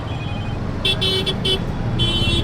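Riding inside an auto rickshaw in Pune during Ganpati season: a steady low engine rumble under road noise, cut by several short horn toots in a broken rhythm.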